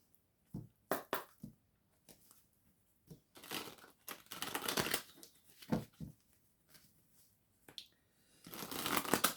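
A deck of oracle cards is shuffled by hand in a quiet room, giving a series of crisp riffling and flicking bursts, some short and some longer, with brief pauses between them and no talking.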